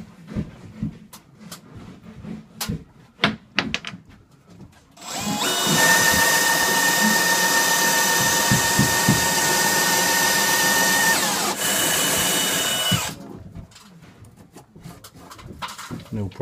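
A DeWalt power drill whines steadily for several seconds at close range, boring through wood with an Armeg Wood Beaver bit, with clicks and handling noises before and after.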